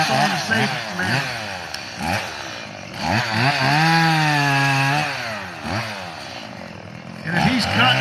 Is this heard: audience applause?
no